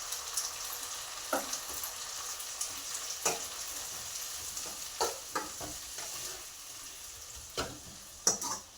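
Mashed ripe tomatoes sauté in a pan for a brinjal fish curry, a soft steady sizzle running throughout with occasional scraping stirs and light utensil knocks nearby.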